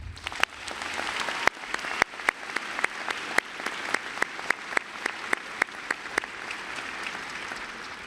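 Commencement audience at McGeorge law school applauding departing faculty colleagues, a steady wash of many hands clapping with a few sharp, louder claps standing out, sustained throughout with no talking.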